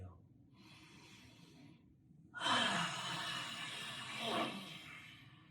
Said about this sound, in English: we'll finish with lion's breath. So that's a nice strong inhale and a slow, strong, tongue-thrusted exhale